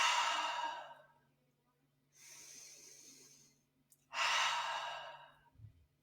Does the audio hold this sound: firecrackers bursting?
no